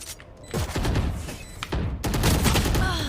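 Automatic turret gunfire in a video game, loud rapid bursts of shots with booms, firing in two sustained volleys separated by a brief gap.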